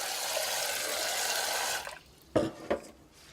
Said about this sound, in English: And then you can just take the water and just drain it off.